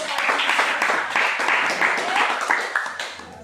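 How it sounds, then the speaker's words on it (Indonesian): Classroom applause during a school project presentation session, a short burst of many hands clapping, fairly loud and close, with voices mixed in. "Tepuk tangan."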